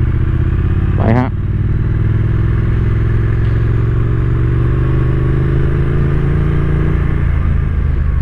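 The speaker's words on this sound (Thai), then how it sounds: "เสียงเพาะมากเลยนะสองสูบทวินของไทอัมอ่ะครับผม" Triumph Street Twin two-cylinder motorcycle rumbles loud and close while riding, a deep steady engine drone with a brief rev near the start and someone talking over it.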